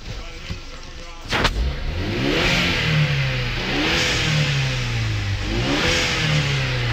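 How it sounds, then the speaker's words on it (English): A 1990s Ford F-150 truck engine with a turbo is revved several times, a sharp bang opening the sequence before repeated rising and falling revs, loud and close. "we were giving it a little revs and stuff so we could hear the turbo go off"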